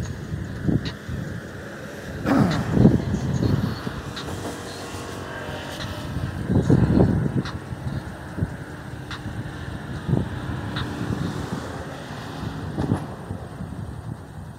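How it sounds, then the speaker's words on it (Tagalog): Gusty wind rumbles against the microphone outdoors near solar panels, swelling into louder bursts every few seconds and then easing back to a steady low rush. "Lakas ng hangin."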